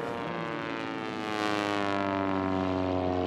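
A racing biplane's propeller engine drones steadily at a national championship air race, its harmonic whine swelling louder and closer as it passes, with no voices heard.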